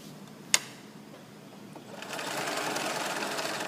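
Sewing machine stitching a child's surgical cap: a sharp click, a quiet pause, then a steady whirring run of stitching for the last couple of seconds, close and alone.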